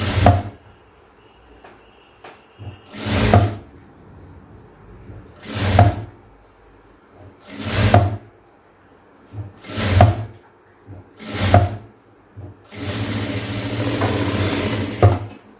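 Sewing machine stitching blouse fabric, running in five short bursts of about a second each separated by pauses, then a longer continuous run at the end, close and fairly loud.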